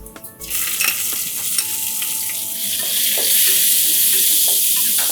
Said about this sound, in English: Once the green chilies sizzle,